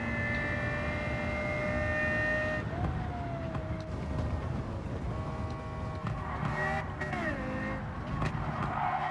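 Renault Avantime engine in Gran Turismo 7, a steady loud drone with shifting pitch through gear changes and some tyre squeal, continuous throughout with no talk.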